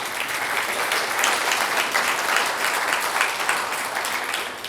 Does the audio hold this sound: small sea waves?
no